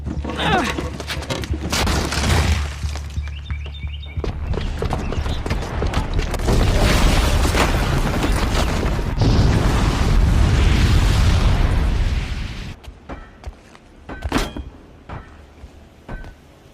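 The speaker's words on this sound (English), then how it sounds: "the booby trap on the bomb downstairs is gonna get set off" Bomb booby trap explosion in a Horizon video game, a loud roaring blast that rumbles on for several seconds with debris and crackling, then fades into scattered smaller bangs.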